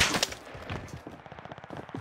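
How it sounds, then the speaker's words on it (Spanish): Gunfire cracks in a video game. A loud opening burst gives way to a rapid, fainter string of repeated shots that patter on steadily to the end. "Alguien me está disparando, pero no sé de dónde, güey."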